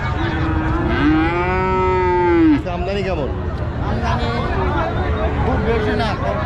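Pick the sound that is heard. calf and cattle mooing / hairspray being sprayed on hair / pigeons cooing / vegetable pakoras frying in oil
calf and cattle mooing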